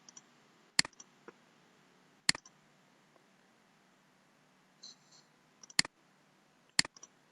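Sharp, isolated computer mouse clicks at a desk, about five crisp clicks spaced a few seconds apart against a quiet room, with faint ticks in between.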